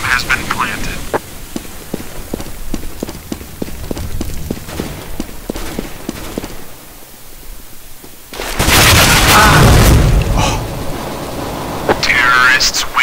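A bomb explosion in a first-person shooter match, a sudden loud burst around the eight-second mark, following a run of sharp rapid gunfire taps, with brief in-game callouts or talk nearby.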